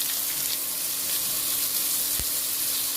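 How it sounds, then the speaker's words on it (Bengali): Vermicelli frying in a pan and being stirred for a few seconds, giving a steady, close, continuous sizzle with a low hum and no talk. "3-4 সেকেন্ড আমি নাড়াচাড়া করে নিচ্ছি এটা"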